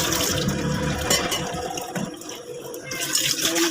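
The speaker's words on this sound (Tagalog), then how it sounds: "Kukuha tayo ng tubig dito sa ating gripo." Tap water running into a kitchen sink while mussels are prepared, a steady splashing rush with louder gurgling bursts, close and continuous, no voices.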